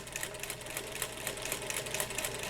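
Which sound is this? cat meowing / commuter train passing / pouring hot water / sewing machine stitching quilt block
sewing machine stitching quilt block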